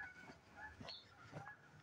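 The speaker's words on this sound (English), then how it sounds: "My goose does not sound healthy." Several short honking calls from two geese in a video game, moderately loud and close, repeating in bursts over a faint background hum.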